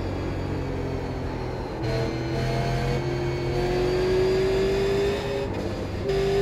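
A Super Late Model race car lapping in the iRacing sim, its engine holding a steady loud drone with rising and falling pitch as it shifts and accelerates, close and continuous with no voices.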